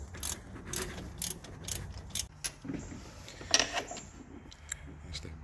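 Ratchet with a 14 mm short socket working a starter bolt on a 2017 Mazda 6, giving bursts of quick clicking in short runs, close and moderately loud, with metallic taps and tool handling between them.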